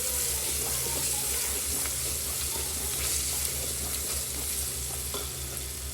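Food in a pan is mixed after a Maggi cube goes in, a steady loud sizzle with light stirring clatter and a low hum underneath.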